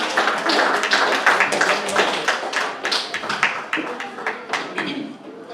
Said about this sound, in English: Let's give a hand of applause again for the preteen.